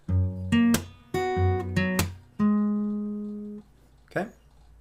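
An acoustic guitar plays bar 37 of a fingerstyle arrangement: a short phrase of plucked notes and open strings with percussive hits, ending on a sustained ringing note that fades, alone and up close.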